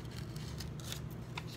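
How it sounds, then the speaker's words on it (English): Small red scissors snipping paper, a few quick crisp cuts spaced irregularly over a low background hum, close and fairly quiet. "I did find my little red scissors, by the way."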